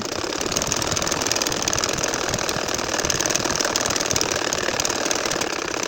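A sewing machine stitches a line on a nakshi kantha quilt, a loud, close, continuous rapid mechanical clatter with a steady rhythm and no pauses.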